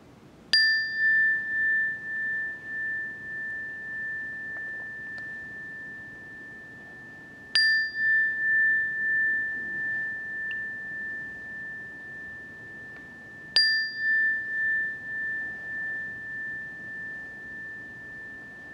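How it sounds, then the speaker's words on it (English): A mindfulness bell is struck three times at slow, even intervals, each clear ringing tone shimmering and fading gradually toward silence in a quiet room, with no voices. "listen to the sound of the bell until you can't hear it any longer"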